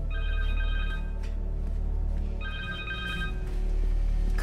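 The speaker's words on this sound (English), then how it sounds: "Connor's cell phone." A cell phone rings in Spider-Man 2, the video game, as two bursts of a bright electronic ringtone with a pause between them, heard clearly over a steady low game background hum.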